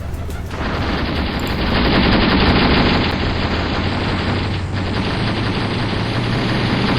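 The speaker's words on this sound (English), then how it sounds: "he's actually firing right at the enemy tank over there" Sustained dense gunfire aimed at an enemy tank in the war game Graviteam Tactics, loud and continuous like rapid machine-gun bursts blending into a steady roar.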